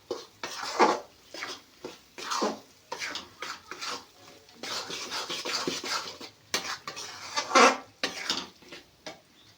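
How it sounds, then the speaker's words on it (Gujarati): Methi pakwan being stirred in a pan after the gas is turned off, irregular close scraping and clinking strokes of a spoon against metal, with no talk. "ગેસ બંધ કરીને પણ થોડી મિનિટ માટે હલાવવાનું છે"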